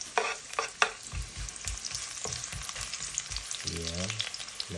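Onion sautéing in oil in a pan crackles and sizzles up close, broken by rhythmic spatula knocks and scrapes against the pan, with a short tonal squeak near the end and no talking.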